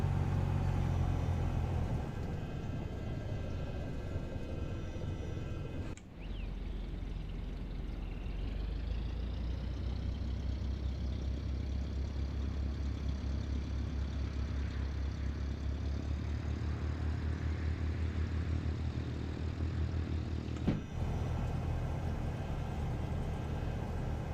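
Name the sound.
Cessna 172 Skyhawk engine run-up in X-Plane 12 video game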